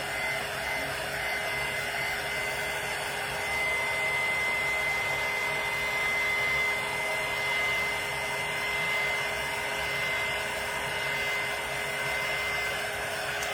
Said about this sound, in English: I try to evenly dry this like this, so you guys will get to see.